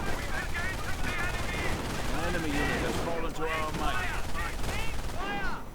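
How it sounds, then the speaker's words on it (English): MG42 machine gun firing in a World War II video game battle against British infantry near a house, sustained bursts of automatic fire layered with other distant gunfire and explosions, dense and continuous throughout. "slowly getting pinned down by the MG42 as it fires away on all of these British infantrymen sneaking about by the house"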